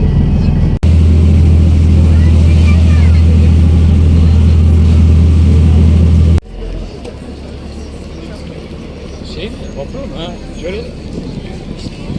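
Loud, steady engine drone of a ferry in İzmir, calling at Karşıyaka, dominates, then cuts to a quieter rumbling hull and water noise with faint voices in the background.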